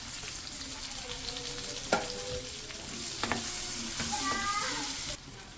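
Onion fries in a pan with two cardamom pods, giving a constant close sizzle with occasional stirring clinks and scrapes, no voices.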